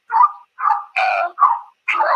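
A dog barks at someone at the front door: five loud, close barks in quick succession, each separated by a short silence, with no talking.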